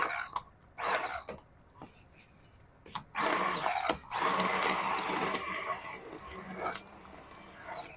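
A blender whirs in bursts as it purees sauce for braised beef short ribs, a few short pulses followed by a long, loud, steady run with a rising whine.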